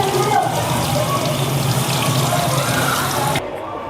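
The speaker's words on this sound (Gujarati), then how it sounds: "હવે આપણે અહીંયા સબ્જીને ધોઈ દઈશું, બરાબર વોશ કરી દઈશું ચોખ્ખા પાણીથી" Cauliflower rinsed under a running kitchen tap, a steady close splash of water pouring and spattering in a sink that cuts off abruptly near the end.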